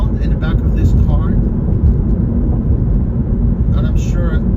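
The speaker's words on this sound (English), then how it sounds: "it's a humming sound in the back of this car" Steady low humming drone from the rear of a rideshare car in New York City, suspected wheel alignment problem or rear damage, loud and continuous throughout with someone talking over it.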